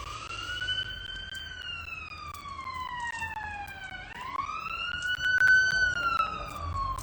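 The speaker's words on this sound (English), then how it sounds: "There's a siren." A wailing emergency siren rising and falling in pitch, moderately distant, with faint background traffic noise and no talking.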